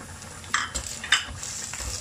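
Sliced garlic frying in hot olive oil in a pan, a soft steady sizzle with a few sharp stirring clinks of a utensil against the pan.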